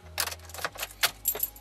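Keys jangling and rattling near the ignition of a 2006 Audi A4 in a few quick bursts, close and moderately loud, with a low engine-like hum underneath.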